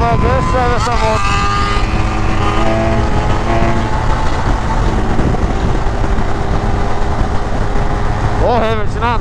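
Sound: 1200 motorcycle accelerating on the road

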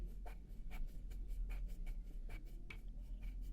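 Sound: colouring on paper with a pencil

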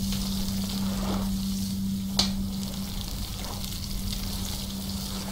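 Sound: crab cooking over a fire in video game Stranded Deep

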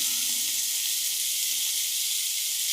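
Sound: eggplant frying in oil

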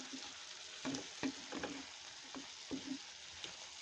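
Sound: frying sweet pumpkin with green chili and onion

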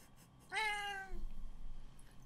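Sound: cat meowing

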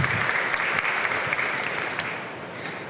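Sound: audience applause at a conference

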